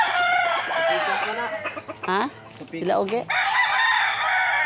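A rooster crows loudly nearby, its long cock-a-doodle-doo rising and falling, with clucking fowl around it and a brief exchange of voices in the middle.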